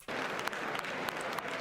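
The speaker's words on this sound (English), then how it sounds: "Oh, the people are clapping." Steady applause from a large audience at the State of the Union address, a dense, continuous wash of clapping heard from a distance at moderate volume.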